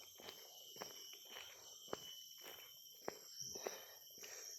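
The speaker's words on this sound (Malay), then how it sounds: "Bunyi cengkerik." Steady high-pitched cricket chirping fills a quiet forest, with occasional soft footsteps crunching in the foreground.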